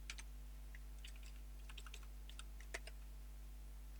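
Program code being typed on a computer keyboard: quiet, irregular key clicks in short bursts over a steady electrical hum, with no talking.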